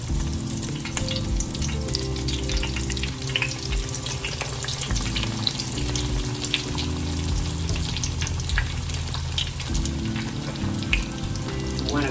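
Chicken breasts frying slowly in oil over moderate heat, a dense, even crackle and bubbling sizzle with tiny pops, close and constant throughout.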